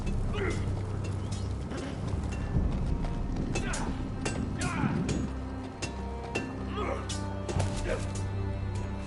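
Horse hooves clip-clop in the Game of Thrones video game, a steady clatter of hoofbeats running under game voices and ambient sound, with other noises mixed in.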